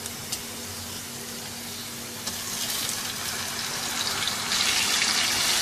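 Marinated beef dropped into a pot of golden fried onions for a spicy masala boti, a steady broadband sizzle that swells louder partway through and keeps hissing evenly, close and with no talk over it.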